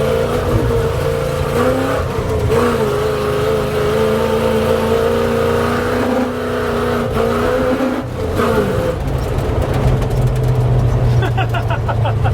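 A Ford highboy truck with a 460 engine revs and drives close by, its loud, steady engine drone climbing and surging as the throttle opens, with a sharper rev burst near the end.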